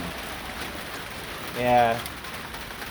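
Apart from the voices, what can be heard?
rain falling outdoors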